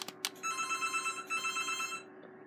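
Home telephone network handset ringing after being dialed, an electronic ring with bright, buzzing bell-like tones in two bursts, preceded by a couple of short clicks, loud and close with no speech.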